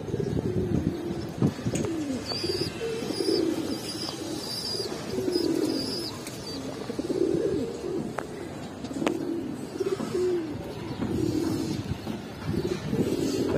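Giribaz pigeons cooing in repeated low, throaty phrases at a regular rhythm, nearby and clear, with occasional chirps and light bumps in the background.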